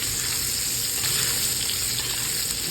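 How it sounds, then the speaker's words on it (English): Ribeye steak searing in a very hot pan, its fat caramelizing into a crust; a loud, dense, unbroken sizzle heard up close with no voices. "caramelize that fat a little bit more on the outside, give it a nice little crust"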